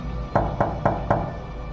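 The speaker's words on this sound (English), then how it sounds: "Then came the knock, light at first," Four evenly spaced knocks on a door, light and close, with a faint steady hum underneath.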